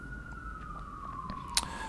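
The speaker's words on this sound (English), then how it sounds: "Sorry, there's an ambulance. I don't know if you can hear that." A passing ambulance siren sounds outside as a steady, slowly falling wail that stays moderately loud over a constant background rumble, with a brief click near the end.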